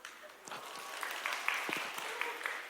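Applause from the congregation at a church youth service, a steady broadband patter of many hands lasting a few seconds at moderate volume, with no talk over it.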